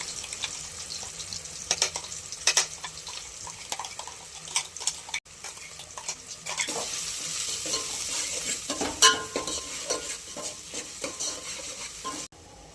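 A ground paste of coconut, ginger and garlic fries in a hot pan, giving a steady close sizzle with repeated scraping stir strokes throughout and no talking.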